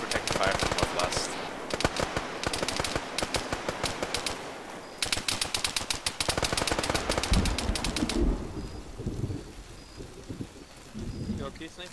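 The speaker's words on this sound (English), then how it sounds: "I think we're taking fire from northwest." Rapid bursts of automatic gunfire crackle in a military shooter game, dense volleys filling the first eight seconds before thinning into scattered, lighter shots as players talk over the fighting.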